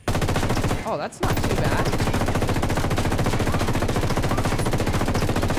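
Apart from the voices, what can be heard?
Llamativo light machine gun firing full auto, Ghost Recon Wildlands video game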